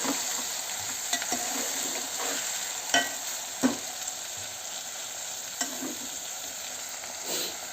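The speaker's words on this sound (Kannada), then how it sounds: "ಎಲ್ಲ ಹಾಕಿದ್ದು ಚೆನ್ನಾಗಿ ಫ್ರೈ ಆಗಿರಲಿ." Vegetables and ingredients for avarekayi uppittu fry in a cooking vessel with a constant hissing sizzle, broken by a few sharp spatula stirs and taps, and nobody speaks.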